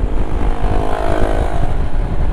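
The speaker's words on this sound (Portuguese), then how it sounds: "passa uma desgraça de uma moto dessa, fazendo essa zoada" A loud motorcycle passes close by on a street, its engine a heavy, continuous droning roar that dominates the whole moment without any break.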